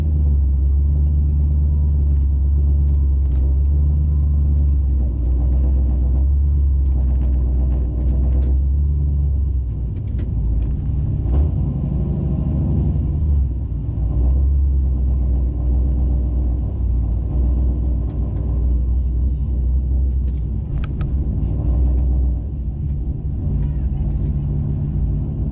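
A GMC truck with a rear-mount turbo drives under power, a loud, continuous low engine rumble and drone that holds steady throughout, with a few light knocks and clicks on top.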